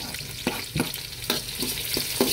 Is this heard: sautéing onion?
yes